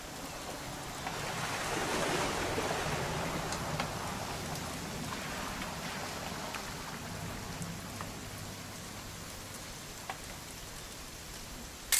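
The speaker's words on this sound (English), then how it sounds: "It's gonna rain the whole weekend," Steady rain falls in the What Remains of Edith Finch video game, a dense, even hiss of drops on surfaces with a few scattered louder patters, continuous and without talk.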